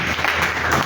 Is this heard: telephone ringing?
no